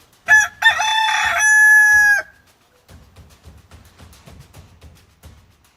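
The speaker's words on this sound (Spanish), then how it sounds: "el gallo cantó la segunda vez." A rooster crows loudly and close, one long cock-a-doodle-doo, followed by a run of soft, regular low clucks from fowl.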